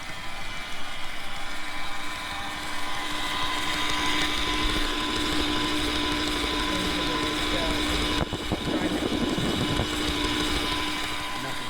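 A Cuisinart stand mixer motor churns cookie dough with the mic pressed right against it, giving a loud, steady close-up whir and rumble with a brief clunk near the end.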